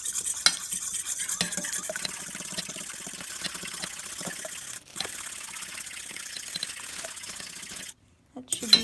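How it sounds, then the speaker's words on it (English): A whisk or fork beats eggs in a bowl for French toast, making rapid, steady clinking strokes at close range that break off briefly twice. "So then just whisk this up."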